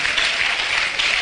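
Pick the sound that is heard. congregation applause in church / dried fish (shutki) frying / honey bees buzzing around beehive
congregation applause in church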